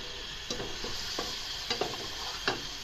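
Ground coriander, turmeric and salt masala fry in a pan with a soft, quiet sizzle, broken by a few sharp spoon scrapes and taps as it is stirred.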